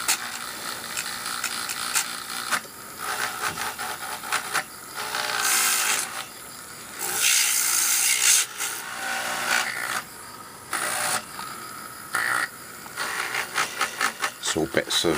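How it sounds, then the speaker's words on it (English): A wire brush in a drill scrubs green verdigris corrosion off a brass shaft from a Hacker RP18 Sovereign radio, producing intermittent bursts of harsh, bright scratching close by, separated by short pauses. "I'm going to clean this brass shaft here with this wire drill."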